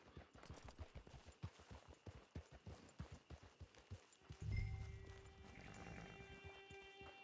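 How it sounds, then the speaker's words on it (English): Horse hooves clip-clopping steadily at a trot in the Red Dead Online video game, a rhythmic string of close hoof beats, followed by a deeper rumbling game sound near the end. "Get your horse."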